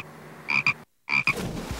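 Two pairs of short, loud frog croaks, separated by a brief silence, with faint background noise between calls.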